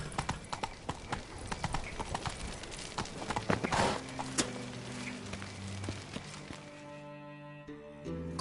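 Horse hooves clip-clop at a steady trotting rhythm in the Witcher 3 video game, close and clear, with game ambience and tonal music tones rising near the end.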